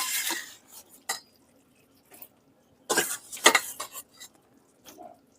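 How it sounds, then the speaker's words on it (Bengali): Paneer softened in hot water is stirred and fried into a spice masala in a pan, a scatter of scraping, clinking utensil strokes in short bursts with quiet gaps between. "দেওয়ার পর আমি মশলার সঙ্গে পনিরগুলো খুব ভালোভাবে কষিয়ে নিচ্ছি"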